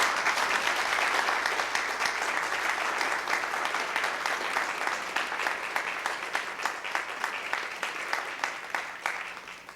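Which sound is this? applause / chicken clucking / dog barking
applause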